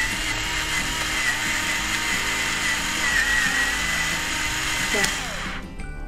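A Breville electric salt and pepper mill grinds pepper on a fine setting, a steady close buzzing whir with gritty crunching that runs for several seconds, then cuts off abruptly near the end.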